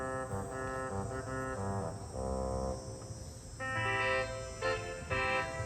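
Pipe organ reed pipes on a trumpet stop play sustained, buzzy brass-like chords that shift several times, rich in overtones, loud and alone without talk.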